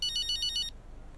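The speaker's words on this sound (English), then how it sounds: "we'll probably get a phone call before I get a chance to go much further" An electronic phone ringtone in F1 25 sounds as a rapid pulsing high trill for under a second, then cuts off to quiet background.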